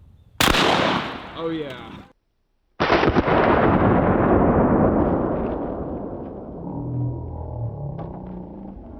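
Double barrel shotgun firing both barrels at once with mini slugs: two loud close blasts, the second with a long rumbling decay, followed by a man's brief exclamation and talk.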